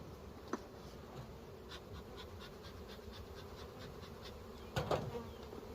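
Honeybees from a hive colony hum as a steady, dense drone throughout, with a couple of brief knocks or handling sounds near the start and end.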